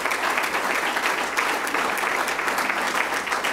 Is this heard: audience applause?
yes